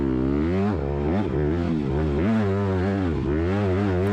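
A 2018 Honda CRF150R supermini dirt bike ridden on a deep sugar-sand motocross track, its engine loud and close, revving up and down in repeated surges with no talking.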